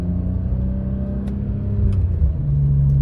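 A BMW E46 M3 with an SMG gearbox accelerates hard, its engine note climbing in pitch with quick gear changes that briefly drop the revs before the engine pulls again, loud and close.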